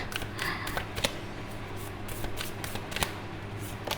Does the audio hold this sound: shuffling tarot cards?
yes